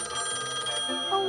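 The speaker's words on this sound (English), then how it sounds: "That's the top secret gadget phone." Cartoon secret gadget phone ringing, a short bright electronic trill that repeats rapidly for about a second before a lower tone takes over, heard alone.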